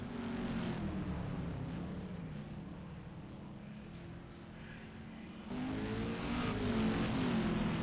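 A touring race car at the Algarve circuit powers out of a corner, its engine droning loud and steady, then surging louder as the driver gets back on the throttle near the end.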